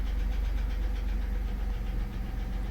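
A minivan engine idles steadily right after starting, a continuous close, loud low rumble with a faint ticking knock running through it and no talking.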